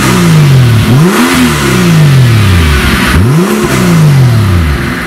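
A loud, deep V12 engine in a Mercedes-AMG G65 SUV revs up and drops back twice, each rise sharp and powerful before falling away, with a throaty rumble throughout.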